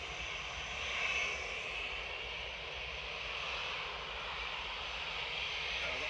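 British Airways jet airliner at Manchester Airport, a continuous hissing engine roar passing at moderate distance, rising a little early on then holding steady, with no talking.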